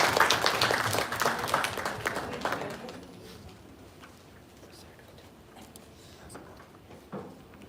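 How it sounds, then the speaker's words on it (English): Audience applause at a binocular vision workshop marking the launch of a manual on orthoptic evaluation, a loud burst of clapping for the first three seconds that fades into quieter room noise with scattered faint claps. "Please give a big round of applause for the launch."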